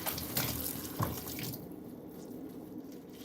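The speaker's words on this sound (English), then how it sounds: "I'm just going to rinse these." Items being rinsed under a running sink tap, with splashing water that is loud and busy at first, then settles into a softer, steady flow with light drips, and no voices.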